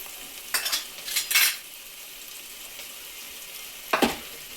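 Onion roasting in a pan, heard as a low steady sizzle with a few short scraping stirs in the first half and one more near the end, close and moderately loud, with no voices.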